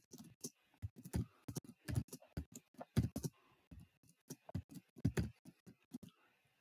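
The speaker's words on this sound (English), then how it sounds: "I'm typing stuff in." Rapid clicking of computer keyboard keys being typed on, irregular bursts of close, fairly quiet taps in a room, with no voices.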